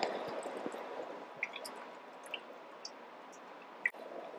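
Tofu pressed by hand to squeeze out water gives soft, faint squishing and wet crackling with scattered small drips and ticks, close by and quiet, with no speech.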